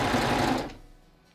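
A serger runs at speed, stitching elastic onto a crib sheet with an appliqué corner, loud and close, then winding down and stopping partway through.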